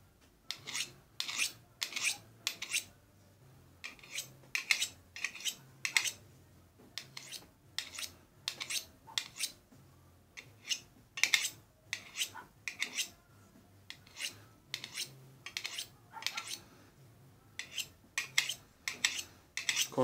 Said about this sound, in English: That way the thick edge, the thick steel, is on this side so I can sharpen this side of the blade.